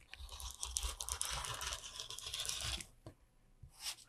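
A pinking rotary cutter rolls through quilt-binding fabric alongside a ruler, giving a close, rough crunching and tearing rasp for nearly three seconds, then a brief pause and a short second scrape.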